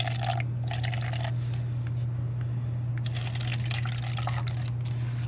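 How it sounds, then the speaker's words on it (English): Water is poured into paint to thin it for pendulum painting, a trickling pour in uneven bursts over a constant low electrical hum, close and fairly quiet. "now I'm gonna add a little bit of water in to make it more runny"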